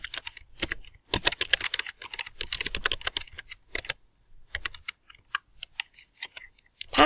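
Fingers tap rapidly on a computer keyboard while entering an email address, sounding as close, crisp key clicks in bursts with short pauses between them.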